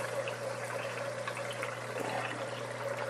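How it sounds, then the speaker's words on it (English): Water draining through tubing into the sump of a desktop indoor aquaponics system, producing a steady, moderately quiet trickling flow with a constant low hum underneath and no speech. "Here you can see it draining into the sump."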